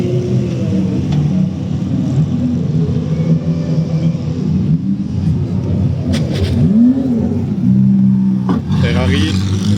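Audi race car passing at the 12 Hours of Spa circuit: a loud close engine drone with a rising and falling pitch sweep as it goes by, then a harsh burst near the end, with voices in the background.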